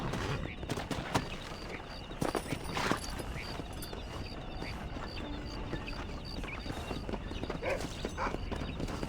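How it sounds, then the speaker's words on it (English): Horse hooves clip-clop at a steady walking pace in the video game Red Dead Redemption, with someone speaking over the gameplay sounds. "O cavalo é da Bunny e o cara tava em cima do cavalo."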